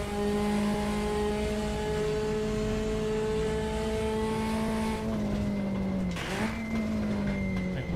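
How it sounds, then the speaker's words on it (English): A Porsche engine from the RaceRoom racing game drones steadily under load with turbo whine on top, holding a constant pitch before a brief dip and shift as the revs change. "It's got a lot of turbo noise to it."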